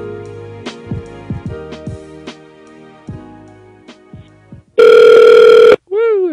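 A telephone call connecting to AT&T: a string of dial-tone and keypad beeps, then a loud sustained ringback burst and a warbling tone at the end, all close and clear with no talking.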